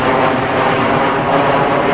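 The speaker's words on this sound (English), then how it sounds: "we still have the accompaniment of planes overhead" Loud, continuous engine roar from airplanes flying overhead fills the whole stretch, a steady broadband drone with no break.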